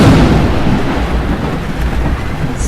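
Thunder rumbles heavily through a thunderstorm over steady pouring rain, loud and close, with no voices.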